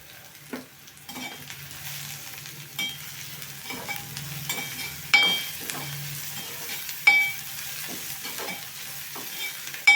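Onions fry in a pan until golden brown and are stirred, a soft continuous sizzle under irregular scrapes and clinks of the spoon against the metal, close by, with no voices.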